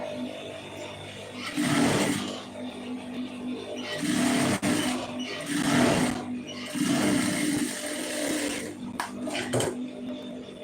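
Sewing machine stitching down a folded blouse hem, its motor whirring in several bursts of a second or two each, with short pauses between runs and no talking.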